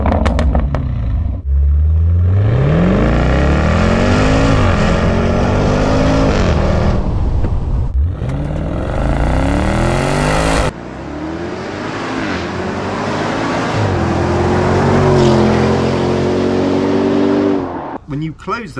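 A Land Rover Defender V8 P525 with a stainless exhaust and H-pipe revs hard, the deep V8 engine climbing and falling through several loud blips, then cutting off and settling into a rising drone.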